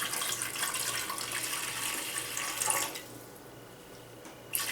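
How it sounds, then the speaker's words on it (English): Water runs from a kitchen tap to cover jerky meat for a marinade, with a steady rush for about three seconds before it cuts off, leaving a quiet hum and one brief splash at the end. "Let's get some water."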